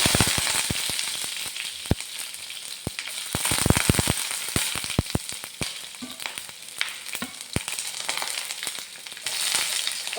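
Fenugreek, mustard seeds and garlic frying in hot oil for a pickle, with loud, dense crackling and sharp popping bursts over a constant sizzle, close by and without talk.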